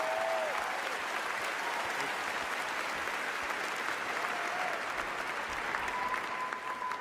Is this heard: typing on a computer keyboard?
no